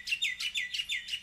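Birds chirp in the Potentia survival game, about five bright, repeated chirps in a steady rhythm, clear and close with no voices.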